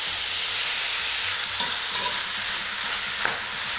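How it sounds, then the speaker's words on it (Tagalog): Beef is sautéed in a hot pan and stirred constantly until it turns medium brown, with a loud, continuous sizzle and scraping spatula strokes that rise briefly near the end, and no talking. "Ang importante ay halu-haluin natin ito habang ginigisa."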